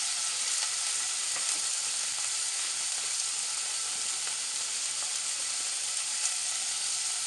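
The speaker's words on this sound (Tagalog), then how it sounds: "Then lalagay natin yung ating pork and iba-brown lang natin to." Pork browning in a little oil in a cooking pot gives a dense, even sizzle that holds steady and close throughout, with no voices over it.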